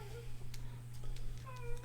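An upset cat trapped outside a room lets out a wavering howl near the end, preceded by fainter yowls, over a constant low hum with quiet background clatter.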